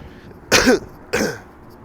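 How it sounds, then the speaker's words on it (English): Two close, harsh coughs from a person with a cold, a short pause between them, heard up close against quiet background noise. "I apologise if I start coughing here and there"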